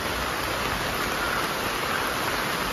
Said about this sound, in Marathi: सकाळपासूनच पाऊस चालू आहे